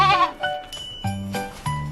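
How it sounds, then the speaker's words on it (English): A goat bleats in several short, nasal calls with pauses between, close and clear, with no voices. "Now we have a goat."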